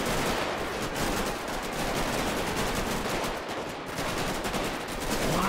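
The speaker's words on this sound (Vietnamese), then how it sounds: "Mình xả AK-47 mà." Sustained rapid AK-47 fire in the video game GTA 5 rattles on without pause, dense and loud, with a brief dip in the middle.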